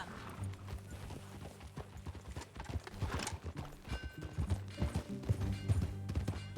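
Horse hooves clip-clop steadily at a ride in the video game Red Dead Redemption 2, close and rhythmic beneath soft game music and mechanical clatter.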